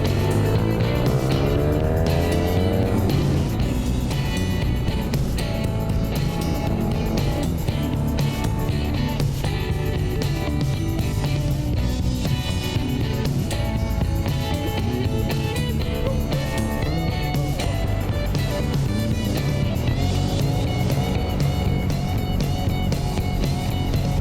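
A motorcycle on an Italian hill road overtakes a car, with a continuous loud engine and wind roar filling the whole stretch and no talk.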